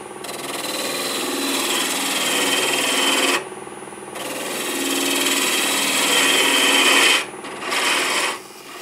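Half-inch bowl gouge cutting a spinning black locust branch on a wood lathe, a steady loud scraping rasp in two long passes, broken by brief pauses and a shorter burst near the end, with no talking.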